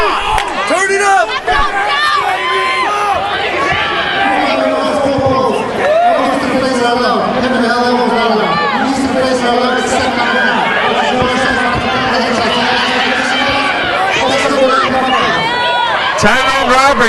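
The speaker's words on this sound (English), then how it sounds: "The crowd is going wild." Packed crowd at a live fight event in Cedar Rapids cheering wildly and shouting, a loud, continuous roar of voices with chanting and whoops sustained throughout.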